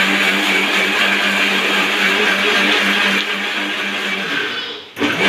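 A kitchen mixer grinder grinds soaked poha with cumin and salt into dosa batter, a loud continuous close-up whir that dips slightly, then cuts off and briefly restarts near the end.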